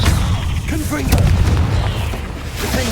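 Confringo fire-blast spell from Hogwarts Legacy, booming explosive bursts amid constant loud game combat noise, with a sharp blast near the middle and other impacts and effects layered throughout.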